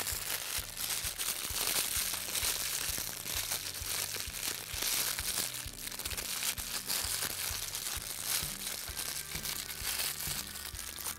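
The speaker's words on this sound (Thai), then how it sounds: "ตัวนี้จะต้องอัดให้แน่นเข้าไปอีกนิดนึงนะครับเดี๋ยวขอดูก่อนอัดให้แน่นเข้าไปจนถึงตัวปากขวดเลยทีเดียว" Plastic waste being crammed tightly into a bottle up to the neck, giving a continuous dense crinkling and crunching of compressed plastic, close and steady throughout with no talk.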